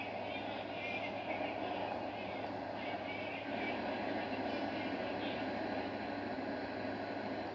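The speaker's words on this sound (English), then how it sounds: "Why did the train stop?" Steady rumbling of a train in the video game GTA 5, a continuous rolling drone with a low hum that stays even throughout, with voices faintly present.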